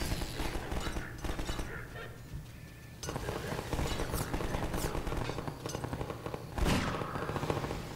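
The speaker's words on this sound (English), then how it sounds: "I'm shooting!" Video game gunfire: rapid bursts of shots rattling off in quick succession, fairly faint and mixed in with other game noise, with a sharper louder burst near the end.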